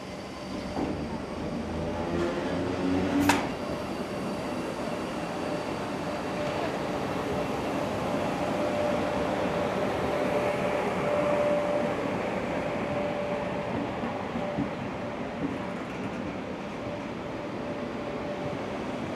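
F1 heritage passenger train set pulling away from a platform toward Rhodes in New South Wales, a steady low rumble of rolling stock with a sharp clank early on and a thin sustained whine through the middle.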